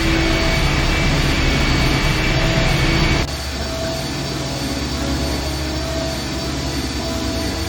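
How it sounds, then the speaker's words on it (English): An engine rumbling loud and steady in the video game I Have No Mouth And I Must Scream, with a broad roar that drops slightly in level partway through and keeps droning to the end, no voices. "The engine's starting up again."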